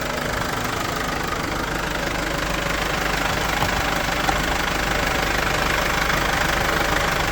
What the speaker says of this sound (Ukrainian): Двигун чисто працює, ніяких нарікань немає.